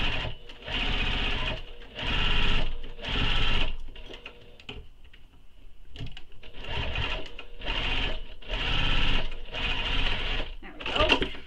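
A home sewing machine runs in several sustained bursts while top-stitching back over a tote bag seam, with short pauses between runs and a final brief burst. It is fairly loud and close, with no talk.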